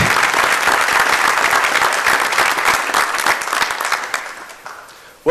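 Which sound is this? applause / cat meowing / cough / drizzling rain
applause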